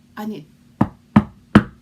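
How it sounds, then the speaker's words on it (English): Three sharp knocks on wood, evenly spaced and close, following a short burst of speech at the start. "You heard that, knocking on wood"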